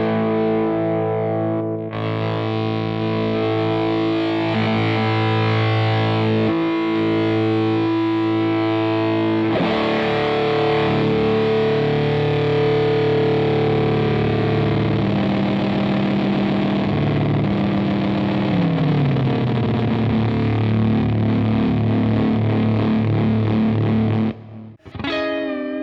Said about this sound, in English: let me do a complete sweep of the mood control and you can hear all the different types